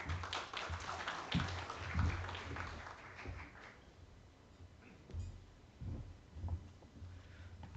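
Scattered clapping from a conference audience at a maritime security panel, a quiet crowd patter that thins out after a few seconds into sparse, faint individual claps against a quiet hall.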